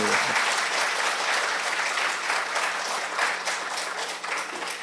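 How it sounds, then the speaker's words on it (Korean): An audience claps steadily for about five seconds, a dense, even wash of applause from a room full of people that holds without pause and does not build or fade. "예, 박수 좋습니다."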